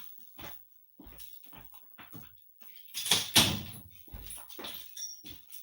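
Dogs indoors barking and whimpering, a series of short yips and whines that build into a louder cluster of barks near the middle, fairly close and heard without talk.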